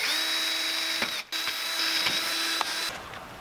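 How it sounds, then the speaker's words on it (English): A power drill whines steadily up close while drilling out rivets on a 1985 Pontiac Fiero headlight motor assembly, with a brief break and a few sharp clicks as the bit bites. "There are rivets holding on the two halves of the assembly together, so those were drilled out."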